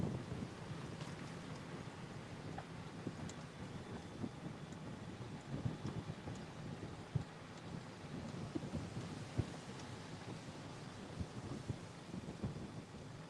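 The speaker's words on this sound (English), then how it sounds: "Here comes the wind, everybody." Strong wind blowing across open paddocks on a Kentucky horse farm, a steady roaring rush with gusty buffeting against the microphone that continues throughout.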